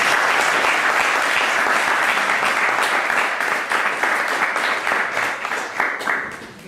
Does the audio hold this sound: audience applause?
yes